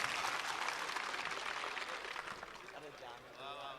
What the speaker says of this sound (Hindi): तालियों से इस शेर का इस्तकबाल करेंगे जनाब अश्क साहब के लिए